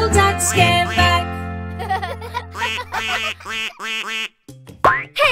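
A cartoon duck quacks in a bright children's nursery rhyme about five little ducks, a run of short nasal quacks over a bouncy musical backing, loud and close, ending with a rising squeaky call.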